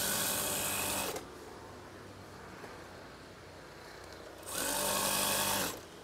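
A sewing machine stitches curtain tie strings in two loud, steady runs, one at the start and one near the end, with a quieter pause of handling noise between them.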